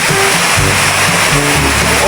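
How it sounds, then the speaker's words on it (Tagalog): Heavy rainwater pours and drips through a leaking house roof, a loud, dense rushing wash that never lets up, with a voice faintly audible underneath. "Lakas ng tulo, oh."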